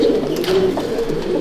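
A pigeon in a fancier's loft at Barrackpore, North 24 Parganas, gives loud, close, continuous low cooing, a steady throaty burble that fills the moment without any voices.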